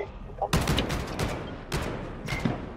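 Pistol shots ring out in Call of Duty Modern Warfare, several loud cracks in uneven bursts, close and punchy, with little else in between.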